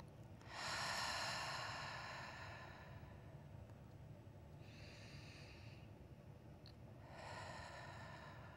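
A group meditation session in which several long, deep breaths are drawn in and let out as audible hisses, each one slow and breathy, spaced apart with quiet pauses between them.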